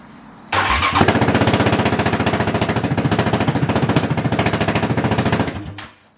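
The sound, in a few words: ATV engine cold start, open header exhaust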